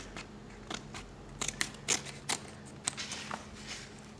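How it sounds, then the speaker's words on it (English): Scissors snip away excess paper while a mini travel junk journal is assembled, a quiet series of short, crisp cuts at an uneven pace, close by with no talking. "I'm just trying to cut off the excess here."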